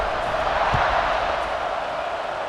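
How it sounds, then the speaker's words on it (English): A dense stadium crowd buzzes steadily in EA Sports College Football 26, a continuous broad roar at constant loudness with a faint thud partway through. "this crowd is buzzing after that last score"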